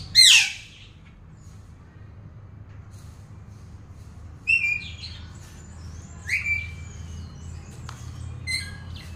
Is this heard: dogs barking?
no